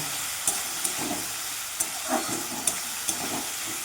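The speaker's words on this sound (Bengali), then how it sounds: "এবার ভালো করে কষব" Shidol fermented fish paste sautés in a pan, giving a steady close sizzle and hiss broken by sharp scraping clicks as it is stirred at irregular intervals, with no talking.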